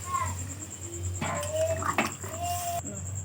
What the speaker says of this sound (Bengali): দেখো এবার জল দিয়ে দিচ্ছি, অল্পই জল দেবো